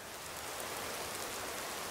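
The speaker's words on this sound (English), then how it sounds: "Just gonna stand around here in the rain." Dense, even rain hisses steadily in the video game Skyrim, a constant broadband wash with no distinct drops and no voices.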